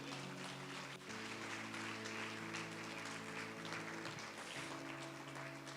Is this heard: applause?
yes